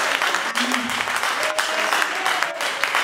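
A congregation at a Swahili church service breaks into dense, sustained applause, many hands clapping loudly and continuously with a few voices rising briefly underneath, filling the room evenly.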